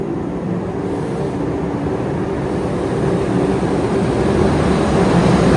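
Steady, loud rumbling drone of a fast passenger train travelling to Busan, South Korea, heard from inside the carriage as a continuous broadband roar with no talk.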